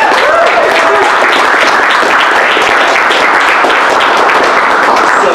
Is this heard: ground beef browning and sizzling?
no